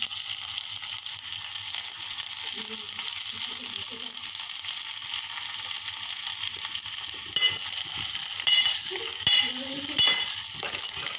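Finely chopped tomato cooks with garlic, cumin and coconut in a pan, a steady hissing sizzle with a few scattered clicks and scrapes of stirring.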